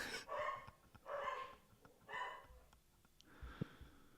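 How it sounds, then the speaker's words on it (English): Dogs barking in a few separate close bouts, each a cluster of sharp woofs with short pauses between, followed by a softer snort or whimper. "And there's the dogs."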